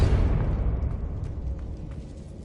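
A Confringo explosion spell in Hogwarts Legacy bursts with a heavy low boom that fades into a rumbling tail over a couple of seconds, with no talk.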